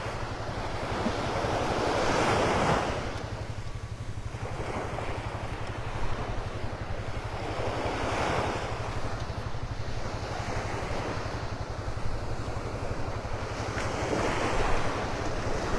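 Ocean surf and wind at Vanderbilt Beach in North Naples, Florida, with waves washing in and receding in slow swells under steady wind noise on the microphone, and no voices.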